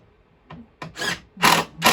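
A power drill driving screws into a shelf, several short close whirring bursts that grow louder and longer, each ending abruptly.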